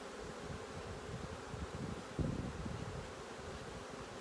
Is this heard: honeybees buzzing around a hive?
yes